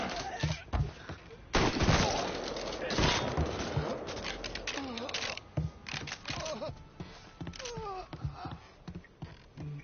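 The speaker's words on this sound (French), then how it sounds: "j'ai envie de tirer avec la mitrailleuse" Bursts of machine gun fire in the open-world crime game Mafia 3, rapid loud cracks in clusters amid clattering game noise, with someone talking over the shooting.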